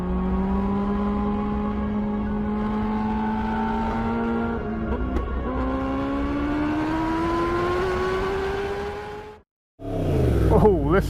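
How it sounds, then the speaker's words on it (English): A 2016 Yamaha R1 anniversary edition sport bike under way, its engine droning loud and steady as it rises through the revs, briefly cut off by a gear change and then climbing sharply again. "So now I've finally got my hands on this beautiful anniversary R1 to take you for a bit of a spin."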